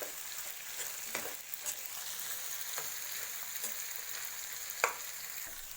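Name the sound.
sautéing onions and boiled potatoes for kanda batata poha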